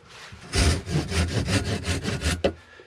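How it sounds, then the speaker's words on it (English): A hand saw cuts through a spool of No.36 bank line paracord clamped in a vise: about ten quick, even back-and-forth strokes, close and loud, ending in one sharp final rasp. "just stick it in the vise, grab your saw, and then we're just going to cut it there"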